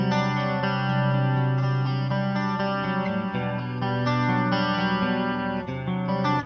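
Electric guitar played through a Tone Master Pro country clean preset with chorus switched on, giving shimmering, sustained chords and single notes that ring continuously and loud with no talking.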